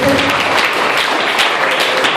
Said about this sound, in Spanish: Dale un aplauso a Cristo, por favor.